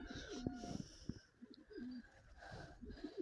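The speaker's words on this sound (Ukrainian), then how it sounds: "Дивіться, голуби позліталися." Pigeons coo softly nearby on a village morning, several throaty calls in a row, with faint flutter and rustle as they fly up.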